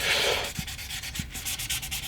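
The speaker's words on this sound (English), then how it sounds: "we're cutting through paint, and the sanding process is happening as we expect it" Steady wet rasping of sandpaper rubbing back and forth over the red paint of a Gibson SG Special guitar, close up, with a few soft knocks.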